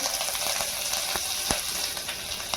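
Cumin, green chilli and curry leaves hitting hot oil for a tempering, giving a steady, dense crackling sizzle up close with a few sharper pops throughout.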